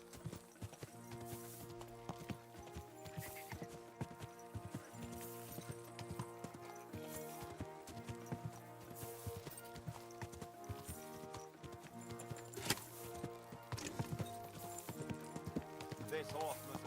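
Hooves clip-clop rhythmically throughout in Kingdom Come: Deliverance 2, mixed with layered background music, and a horse whinnies faintly at one point.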